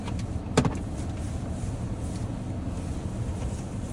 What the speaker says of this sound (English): I know it's loud a little bit because I gotta warm the car up just a little bit